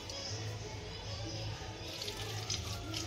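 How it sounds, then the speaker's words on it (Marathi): Water pouring from a tap into a vessel of cut brinjals, a steady splashing rush running throughout at close range, with a faint background murmur. "तर आता मी ही वांगे त्याच्यात पाणी टाकून घेत आहे।"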